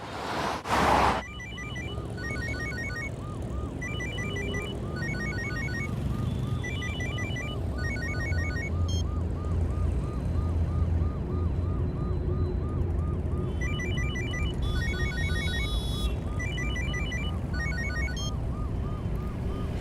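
An electronic phone ringtone trills repeatedly in a steady patterned loop over a busy background hum, continuing for the whole stretch.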